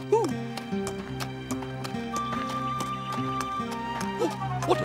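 Horse hooves clip-clop in a steady rhythm with a wombat riding on its back, heard close beneath cartoon music and a voice, with a short neigh in the mix.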